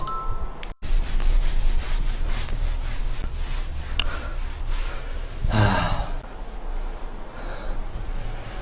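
Rag wiping a balcony wall after mold remover was sprayed on it, heard as a steady close scrubbing and rubbing that runs almost the whole time, with one brief knock near the start.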